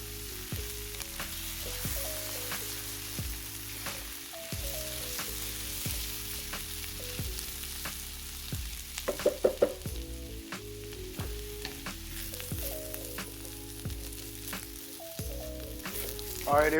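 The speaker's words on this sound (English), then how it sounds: "Now we just let all those flavors meld together" Breakfast potatoes frying in a pan for a frittata meal, a steady close sizzle running the whole time with occasional louder crackles and pops, while music plays quietly underneath.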